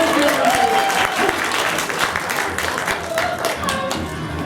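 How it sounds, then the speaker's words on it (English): Enthusiastic audience applause and cheering in a comedic sci-fi scene with theater performers, a loud, dense roar of clapping with crowd noise and faint voices mixed in throughout. "We just need applause."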